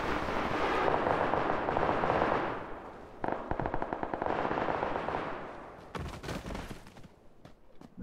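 Heavy gunfire in a fight in the video game PUBG PC Lite, dense bursts of rapid automatic shots that thin into separate cracking volleys, loud and continuous without speech.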